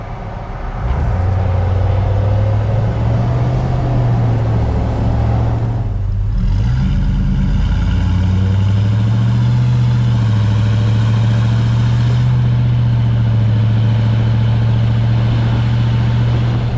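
Close, loud drone of an LS-swapped 1952 Chevrolet with a custom stainless exhaust, a 2-inch pipe into a single 2.5-inch, cruising at interstate speed in traffic, its steady engine hum rising and falling slightly with throttle, no voices.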